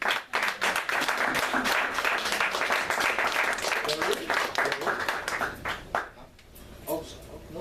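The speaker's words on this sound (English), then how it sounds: "Can we get another round of applause for everyone who read today?" An audience at a writers' workshop poetry reading claps loudly for several seconds, the applause thinning out toward the end as a speaker's voice comes through.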